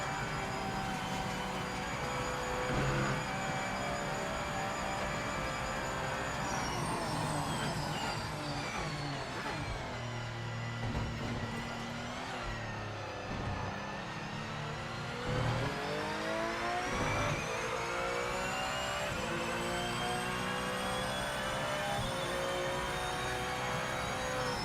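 A Porsche race car engine in the Project Motor Racing video game revs and pulls through rising and falling gears, a loud steady whine with sweeping pitch changes throughout.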